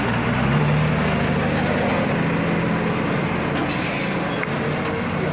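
Big heavy loaded 12-tyre lorry driving on a gravel ghat road, its engine rumbling continuously and loud at close range with a steady low drone.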